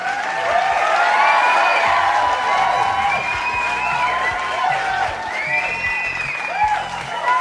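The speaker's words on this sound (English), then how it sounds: "Please do give Katie a huge round of applause." A festival talk audience applauds and cheers loudly for a presenter after her project is introduced. The dense, continuous clapping from a large crowd comes with whoops and high cheers throughout, close and sustained.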